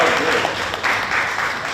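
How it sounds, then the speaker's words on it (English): A talk-show audience breaks into applause, dense continuous clapping heard close and fairly loud for a short burst. "give Gibson a round of applause"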